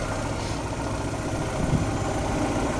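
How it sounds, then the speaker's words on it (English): Honda H2B engine idling after its timing belt fell off when an idler pulley bolt broke, a steady low mechanical drone with slight vibration, running continuously and alone throughout. "It's idling where it should,"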